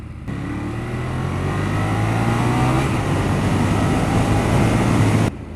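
A 2014 Ducati Monster 1200 motorcycle engine pulls hard under aggressive throttle while riding, a loud continuous drone with wind rush steady through the whole stretch, cutting off abruptly near the end.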